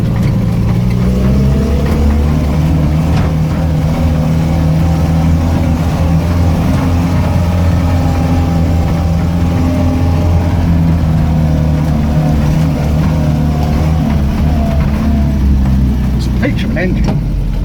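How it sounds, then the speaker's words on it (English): A 1980 Land Rover Series 3 109 climbs a bumpy hill in third gear. Its engine gives a loud, steady, close droning hum, and someone talks over it. "Peach of an engine, absolute peach. Third gear, absolute peach of an engine."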